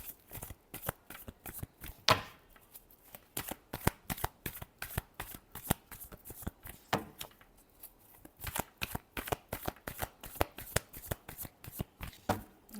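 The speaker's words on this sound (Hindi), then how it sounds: "Last shuffle." Tarot cards are shuffled by hand in a rapid run of crisp riffling snaps and soft slaps, close and clear, with short pauses between bursts and no talking.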